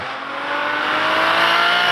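A 650 bhp BMW M2 fitted with a big single turbo engine accelerates hard, its engine note loud, steady and rising over two seconds with no talk.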